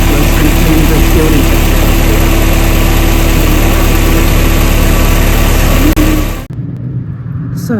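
A Mercedes SLK230 R170 engine idles roughly with a steady, loud vibrating drone, stationary and close by, cutting off abruptly near the end.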